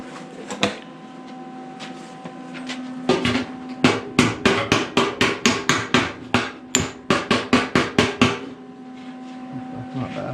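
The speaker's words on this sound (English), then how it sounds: "Where's my hammer and dolly?" A hammer strikes a dolly on the rear fender of a 1952 Studebaker 2R5 half-ton pickup. One early tap is followed by a fast, even run of roughly twenty sharp metallic blows, close and loud.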